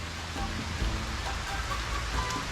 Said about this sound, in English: So we'll take a trek out here in the rain.